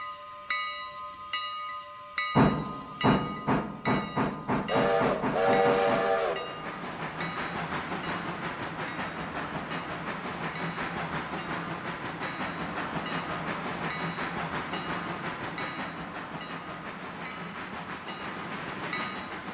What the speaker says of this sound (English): We got all these different like steam locomotives.